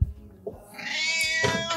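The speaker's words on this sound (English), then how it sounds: "My cat is screaming." A cat lets out a loud, drawn-out scream, one long wailing yowl that rises and wavers before breaking off, heard close and clear after a couple of soft thumps.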